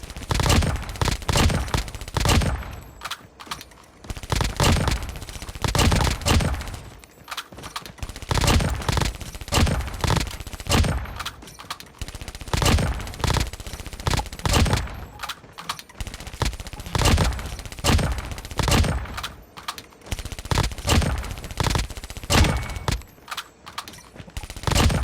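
Rapid bursts of gunfire in Call of Duty Mobile repeat in clusters with short pauses, loud and close, each volley of sharp shots ringing out with almost no talk over them.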